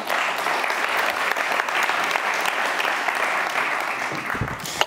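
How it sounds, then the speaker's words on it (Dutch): A live audience at a creative-industry talk event applauds warmly, a dense, fairly close burst of clapping that continues steadily and begins to thin near the end. "Graag een warm applaus voor Michel Tedden."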